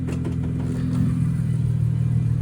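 An Infiniti Q60 Red Sport idles with a deep, steady exhaust burble, a low pulsing rumble close by that swells slightly midway, with no one talking.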